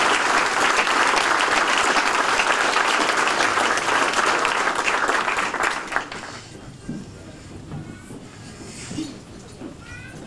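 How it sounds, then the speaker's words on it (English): An audience at a hall of fame ceremony in a hall breaks into loud, sustained applause that fades out around the sixth second, leaving quieter room noise with a few faint murmurs. "I would appreciate a nice round of applause for Stacy Santos."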